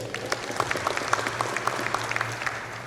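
Audience applause at a Texas high school football recruiting event, a steady patter of many hands clapping at moderate loudness for about three seconds, without speech.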